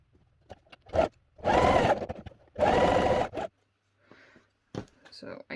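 Sewing machine stitching Christmas tree bunting from fabric scraps, two sustained buzzing runs of about a second each separated by pauses, close and clear, with handling clicks and bumps between.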